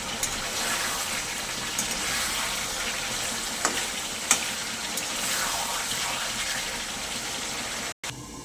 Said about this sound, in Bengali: আমি চিকেনটাকে চাপা দিয়ে দিয়ে আস্তে আস্তে রান্না করবো। চিকেন থেকে যে জলটা বার হয়েছে, এতেই অর্ধেকটা চিকেন সিদ্ধ হয়ে যাবে।